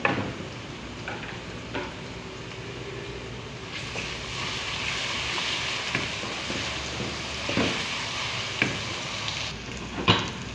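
Garlic ginger paste sizzling with onions in a hot pan, a steady broadband fry with occasional scraping and clatter from stirring.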